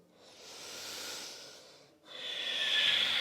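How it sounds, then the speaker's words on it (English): Slow audible breathing during a yoga pose, one long soft airy breath followed by a brief pause and then a louder, sharper hissing exhale, close to the microphone with no talking. "take a couple breaths here"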